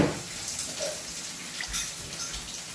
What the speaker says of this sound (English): So let's add 2 cups of water.